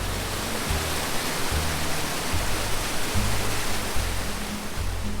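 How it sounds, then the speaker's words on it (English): A small waterfall along a rocky Colorado hiking trail near Buena Vista gives a steady, close rushing wash of water that holds evenly throughout, with low rumbling gusts underneath and no voices. "That was a pretty sweet little waterfall."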